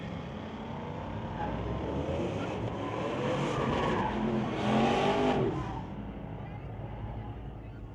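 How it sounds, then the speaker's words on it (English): A 1968 Acadian and a Camaro drag racing at a raceway, engines heard from a distance as a rising roar with a brief tire squeal, under steady crowd and ambient noise. "The 68 Acadian will face off against the Camaro."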